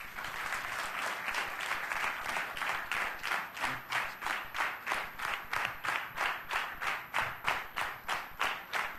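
An audience claps after an engineering talk, the applause settling into a steady rhythmic unison beat of sharp, evenly spaced claps that continues throughout at moderate distance.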